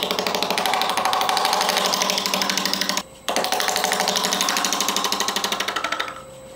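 Tool cuts on dogwood roots turning on a woodturning lathe make a loud, rapid rhythmic chattering that pulses steadily, breaks off briefly for a moment, resumes, then stops near the end, leaving a quieter hum.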